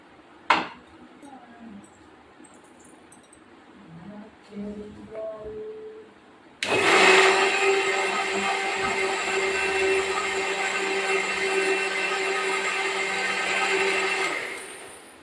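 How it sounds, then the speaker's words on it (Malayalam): Mixer grinder whirring loudly as it grinds soaked ingredients with water in a jar filled about three-quarters, starting abruptly after some quiet clinks of kitchenware and running steadily. "അങ്ങനെ അരച്ചെടുക്കാനൊക്കെ ഉള്ളത് ഒരു മിക്സിയിൽ 3/4 ഭാഗത്തോളം ഇട്ട് ഒക്കെ അരച്ചെടുത്തിട്ടുണ്ട്."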